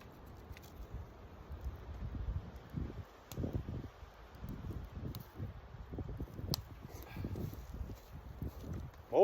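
A campfire burning outdoors on a windy day, with scattered sharp crackles and pops over a steady low rumble of gusting wind, fairly close and moderately loud throughout.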